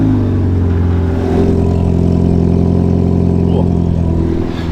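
A MINI John Cooper Works F56 hatchback engine runs loud and close after starting, its steady mid-pitched rumble building with revving throughout, with no talk over it.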